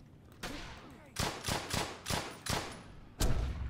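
Gunfire in the World War II shooter Brothers in Arms: Hell's Highway, a burst of five or six sharp, loud shots in an uneven rhythm, closing with a heavier blast, no voices.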